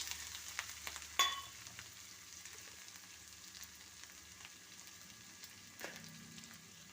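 Ginger and garlic fry in hot oil in a pan as part of a dried fish curry, giving a faint, steady sizzle with a sharp clink of a utensil near the start and another soft stir later.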